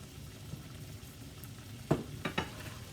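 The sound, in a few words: cubed venison browning in a frying pan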